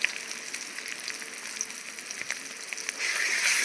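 Chili powder, Kashmiri chili powder and spices fry in a pan for a spinach curry. A continuous close-up sizzle with fine crackling swells slightly louder at the end.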